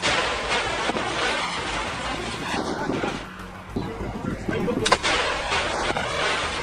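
Gunfire from an Al-Qassam fighter ambushing and firing at a building window in a war zone: dense, rough bursts over constant broadband noise, with one sharp crack standing out near the end.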